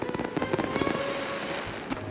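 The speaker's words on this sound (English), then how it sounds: "wielding fire sticks and hurling bangers into burning barrels" Bangers crackling and popping at a crowded outdoor fire carnival with burning barrels, a dense burst of rapid sharp reports early on that gives way to a noisy crowd din with a few scattered pops.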